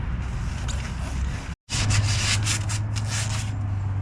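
A truck wheel hub on a Ram 5500 chassis cab is scrubbed clean with Scotch-Brite, a close, continuous rough rubbing and scratching broken by one brief pause before resuming in quick strokes.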